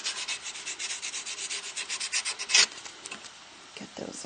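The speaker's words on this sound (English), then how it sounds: "grab some sandpaper, or I just happen to have here a nail buffing file" A nail buffing file rasps against the sharp edges of a metal stamped bangle blank, a quick series of close, rhythmic scraping strokes that pause briefly near the end.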